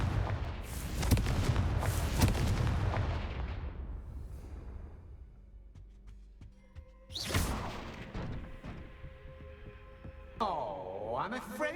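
In the video game Hogwarts Legacy, the Confringo fire spell is cast, giving a loud booming blast that rumbles and fades, followed by softer game effects and a rising whooshing shimmer near the end.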